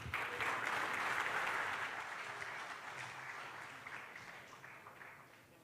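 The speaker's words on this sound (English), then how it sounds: "Let's give round of applause again to Professor Jeffrey Shah." Audience applause at the end of a lecture on sustainable development goals, a dense wash of many hands clapping that is loudest at first and then slowly fades, heard from a distance and rather faint.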